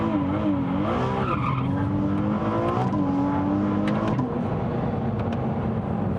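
A Ferrari 296 Speciale slides sideways on track, its tyres squealing loudly and continuously over the engine's wavering drone, with the pitch bending as the car drifts.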